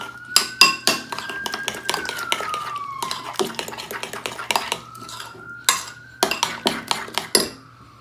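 A utensil clinks and scrapes against a bowl while ingredients for a New England boiled dinner are mixed, bursts of sharp metallic clatter in uneven bunches, close up and loud, with a faint tonal hum underneath.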